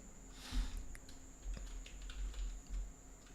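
Keystrokes on a computer keyboard as a short welcome message is typed, a soft burst of clicks near the start and then scattered light taps over a low steady hum.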